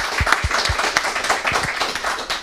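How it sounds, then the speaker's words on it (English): Applause and scattered clapping from the audience at the BattleMesh v12 opening session, a steady patter of hands filling the room with a few louder individual claps near the front. "and applause."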